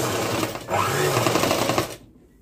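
A sewing machine stitches lining onto a boat neck long frock on a long stitch setting, running loud and steady for about two seconds before stopping abruptly.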